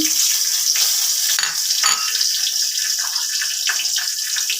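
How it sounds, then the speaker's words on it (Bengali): Cardamom and whole spices frying in hot oil in a wok, a steady bright sizzle with a few louder crackles and pops along the way. "প্রথমে আমি এলাচটা ফোড়নে দিয়ে দিলাম, তেল দিয়ে দিয়েছি একটু কড়াতে, এলাচটা দিয়ে দিলাম।"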